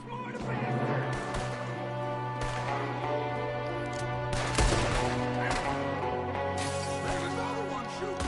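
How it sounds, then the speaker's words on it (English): Enemy gunfire in the Western video game Red Dead Redemption 2, scattered sharp shots over a background of musical score and ambience, with characters speaking between the shots. "There's another one shooting from the window."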